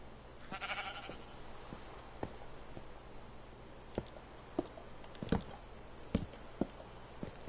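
Sheep in a video game bleat in a short burst near the start, followed by scattered faint clicks and soft taps over a quiet background hum.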